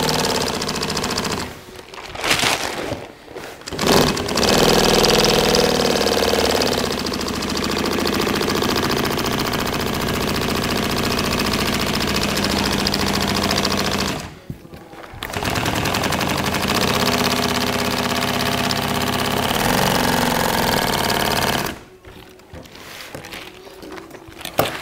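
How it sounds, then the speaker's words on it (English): A sewing machine stitches a boat aft curtain for a 58 Carver, running in long loud continuous bursts of rapid needle rattle, broken by a few brief pauses. "I'm gonna kind of just sew the inside, and I'm gonna sew the outside of this."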